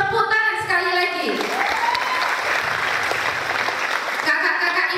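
Applause from a gathering of new students at a school orientation, a dense burst of clapping between stretches of a speaker's amplified voice at the start and end.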